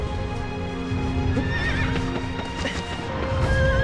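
Horse neighing with clip-clopping hooves in Shadow of the Colossus, a steady run of hoofbeats with a whinny rising partway through, close and loud with no talk.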